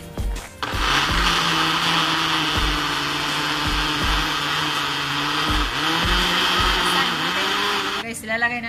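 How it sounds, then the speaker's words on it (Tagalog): A blender whirs loudly and steadily at close range, its motor pitch wavering slightly, then cutting off near the end. "Blender na natin siya."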